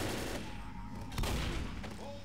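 Bursts of gunfire in the video game Left 4 Dead crack in a rapid volley, with a heavier shot in the middle, as people talk over the shooting.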